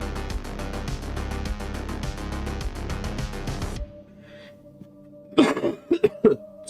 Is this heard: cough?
yes